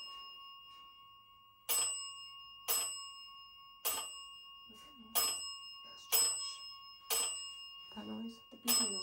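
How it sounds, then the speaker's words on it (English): An electronic device used on a ghost hunt in a house gives a series of sharp, ringing beeps, about one per second, with faint voices murmuring in the quiet between them. "The beeping noise."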